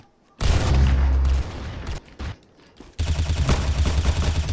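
Loud shotgun fire in the Roblox Arsenal video game, booming blasts that run together into a continuous roar, pause briefly, then resume.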